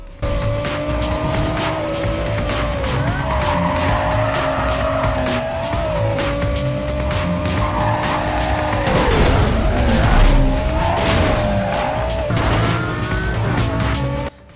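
Race cars in the video game Need for Speed: Carbon roar at high revs continuously, with engine pitch rising and falling through gear shifts and repeated loud tire squeals and skids.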